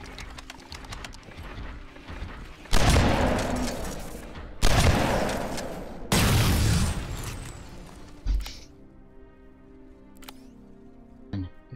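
Gunfire in Terminator Resistance as shots pour into hostile machines: three long, loud sustained bursts separated by short gaps, followed by a sharp metallic impact and a quieter mechanical tail.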